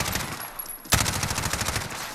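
An MP5K submachine gun firing in Call of Duty Modern Warfare: a single sharp shot, then a rapid steady burst of automatic fire, loud and close, with no talking.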